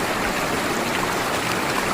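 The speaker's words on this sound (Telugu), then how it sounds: "దట్టమైన అడవి మధ్యలో ప్రవహిస్తున్న సెల్మలా నది" The Selmala river flowing over rocks carved with Shiva lingams through dense forest at Sahasralinga, running high: a steady, close rushing and gurgling of water, continuous with no voices.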